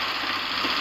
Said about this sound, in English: Compressor is on.